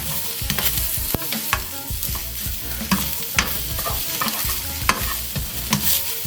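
Sausages frying and sizzling in a pan as a utensil stirs them, steady close-up sizzle with irregular scraping knocks throughout, no talking.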